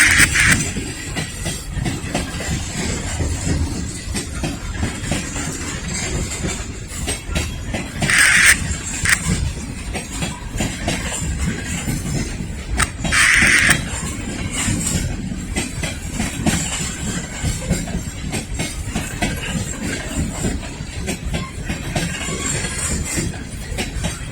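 A long freight train made up largely of tanker cars rolls past near Lynchburg, steady clickety-clack and rumble of wheels on rail throughout, with brief hissing bursts from the cars.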